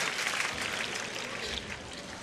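Crowd applause at a fierljeppen canal pole-vaulting championship, greeting the women's winner: a faint, distant, steady patter of clapping with no clear breaks.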